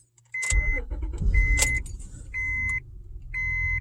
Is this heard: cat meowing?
no